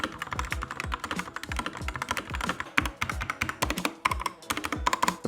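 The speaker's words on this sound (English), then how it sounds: "And here is what the keyboard sounds like." Fingers type quickly on a budget gaming keyboard with red switches, which sold for about fifteen dollars. The keys give a close, busy stream of sharp clacks in uneven bursts.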